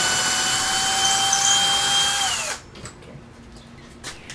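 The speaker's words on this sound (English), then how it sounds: "I'll put starter hole straight through to the stud" A power drill bores a starter hole through a wall into a stud, whining steadily and loudly for about two and a half seconds, then stops and leaves faint handling noises.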